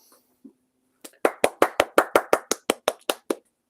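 A single person claps on a live stream, about a dozen sharp, close claps in a steady quick rhythm after a brief pause, heard alone with no talking.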